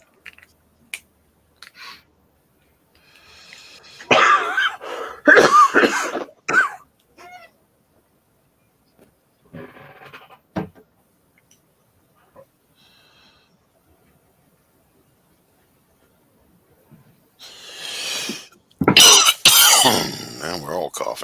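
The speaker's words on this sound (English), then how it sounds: "Now we're all coughing." Several people coughing and clearing their throats in scattered bursts, close and fairly loud, separated by quiet gaps, with a heavier cluster of coughs near the end.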